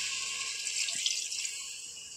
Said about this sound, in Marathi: आता वरचं पाणी टाकून घेऊया मटणामध्ये